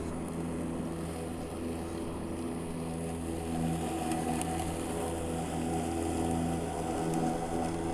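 Makita 36-volt battery lawn mower held at 2,500 RPM gives a steady, even motor drone with a constant low hum for the full stretch, fairly loud and close, with no talking.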